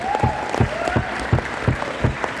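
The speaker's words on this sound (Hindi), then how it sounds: "ताली बजाओ जोरदार" A seminar audience claps loudly in rhythmic bursts, hands striking together in a steady beat under a faint tonal background.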